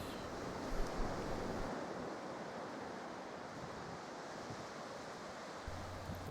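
Beach waves and wind in the video game Beach Simulator 2016: a steady, dense wash of surf and breezy rushing air, continuous and fairly soft, with no voices.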